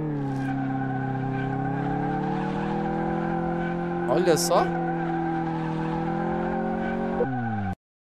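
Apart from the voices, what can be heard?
car burnout with tire skid in Car Mechanic Simulator 2018 video game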